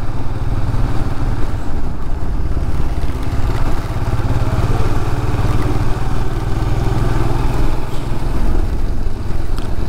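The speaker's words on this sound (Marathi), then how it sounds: "गाडी खूप जपून चालवावी लागत आहे" A motorcycle rides through rain and fog on the winding Tamhini Ghat road, its engine droning loudly and steadily along with wind and road noise throughout, with no talking.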